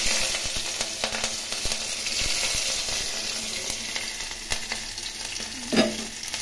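Garlic and green chillies sizzle in hot oil with black cumin and dried chilli, a steady close frying hiss with light stirring clicks and a brief louder scrape near the end.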